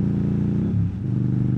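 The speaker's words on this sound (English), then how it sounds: "You know, this is engine braking." A motorcycle engine drones in a brief stretch of engine braking with a rev match, its steady note dipping and then settling at a new pitch partway through.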